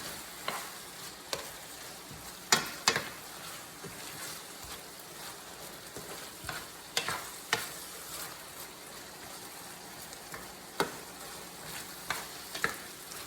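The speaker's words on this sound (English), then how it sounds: "So we'll stir this in." Tomato sauce being stirred into radish picadillo frying in a pan, a steady close sizzle with scattered scraping clicks of the spoon throughout.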